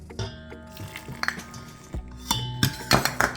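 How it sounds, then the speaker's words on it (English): A spoon mixing sugar and chocolate in a bowl for a moist cake batter, giving light, irregular clinks and scrapes against the bowl, close and fairly quiet, with sharper taps toward the end. "we're going to take a spoon and we're going to mix it together"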